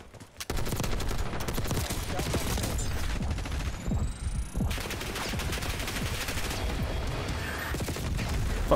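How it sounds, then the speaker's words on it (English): Bursts of rapid gunfire crackle in quick volleys in Call of Duty: Black Ops 6, with a short lull midway before the shooting resumes. "Where's the gunfire from?"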